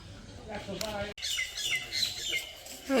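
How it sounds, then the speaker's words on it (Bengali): Birds chirping and calling outdoors, bright tweets rising and falling near and far, with a voice talking faintly underneath at times. "দেখেন বাবি কি সুন্দর করে পাখিতে ডাক পড়তেছে"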